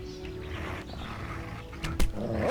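A wolf in the medieval game Kingdom Come: Deliverance gives a low, continuous rumbling growl, close and steady, with a couple of sharp thumps near the end.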